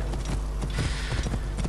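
Horse hooves clip-clopping in Assassin's Creed Origins: a quick, uneven run of hoof knocks and creaking tack over a constant low rumble, close and steady throughout.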